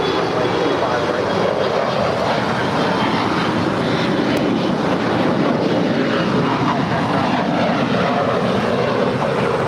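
At Los Angeles International Airport, a jet airliner roars as it comes in to land, a loud, continuous broadband rumble that holds steady throughout with no break.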